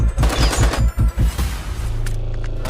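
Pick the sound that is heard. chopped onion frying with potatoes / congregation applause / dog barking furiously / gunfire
gunfire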